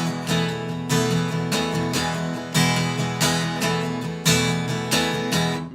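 Guitar strummed in a steady eighth-note pattern accented on beat 1, the and of 2 and the and of 4, repeating evenly for several bars with no voices.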